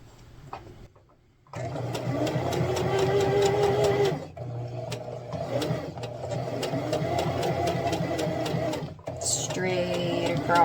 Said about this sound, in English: then we are going to sew off the seam and then back on the seam over here.